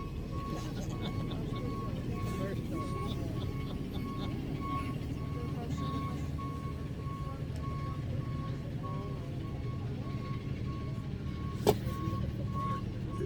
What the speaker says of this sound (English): We have a truck commercial.